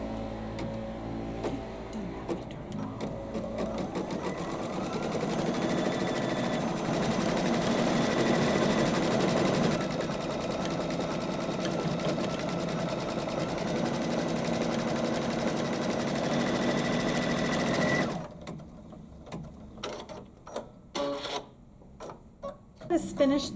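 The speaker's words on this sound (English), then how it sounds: "So we're going to go ahead and let the lettering stitch out." An embroidery machine stitches out fine lettering for a Kimberbell quilting project, a steady close mechanical whir with rapid needle ticking that runs continuously for most of the stretch, then stops into a few scattered knocks and handling sounds.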